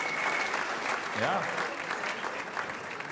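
Audience applause at a Fastnacht carnival concert in the Konzil hall in Konstanz, a dense steady roar of clapping from a large crowd with a voice briefly heard through it.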